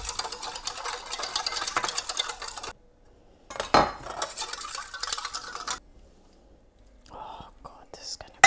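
Salt-and-pepper seasoning gets stirred briskly into extra virgin olive oil in a bowl, a close, soft scraping and swishing in two short bursts separated by quiet, with a voice speaking briefly.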